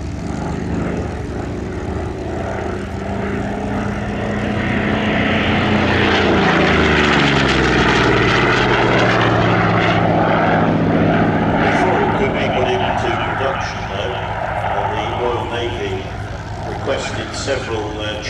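Vought Corsair propeller fighter flying at the Shuttleworth Fly Navy airshow, a loud, rising then fading engine drone with shifting pitch as it passes, under an announcer's commentary over the public address.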